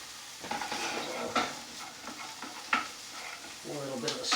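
Onions fry in a pan with a continuous sizzle while a spoon stirs and scrapes through them, producing irregular clinks and scuffs close by, without any speech.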